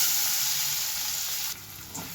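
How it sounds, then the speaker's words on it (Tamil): Chopped onions sauté in a hot pan after spices go in for paneer butter masala, a dense steady sizzle that drops in loudness partway through, then a small stirring bump, with no speech. "ஆனியன் வந்து நல்லா வதங்கிட்டு இருக்கட்டும்"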